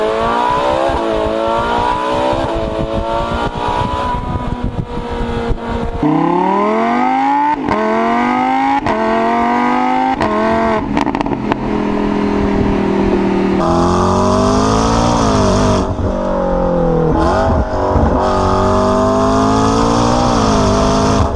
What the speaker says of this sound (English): The exhaust note leaves something to be desired compared to its naturally aspirated competitors.